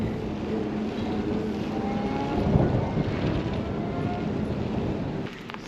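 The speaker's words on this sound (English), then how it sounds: "To say the least, it's windy today." Strong wind gusting on a windy day at an outdoor spot with a fence, a steady broadband roar and rumble buffeting the microphone throughout, easing slightly just before the end.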